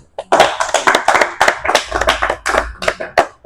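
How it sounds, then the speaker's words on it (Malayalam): An audience at a Bhagavad Gita class claps for two children, a dense burst of many hands applauding close by for several seconds, rising and falling slightly with no speech over it. "രണ്ട് മക്കൾക്കും ഒരു പ്രത്യേക കയ്യടി കൊടുക്കാം."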